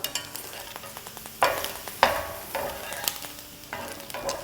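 Kucha paratha sizzles on a hot tawa while it is stirred and pressed, with a soft continuous fry broken by several sharp scraping clatters from the spatula, close and alone.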